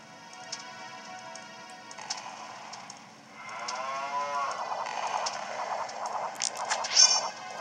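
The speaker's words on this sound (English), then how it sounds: "There's a cow there." A cow in Zelda Ocarina of Time 3D gives a long, drawn-out moo midway through, heard over steady game music and ending in a few bright chimes.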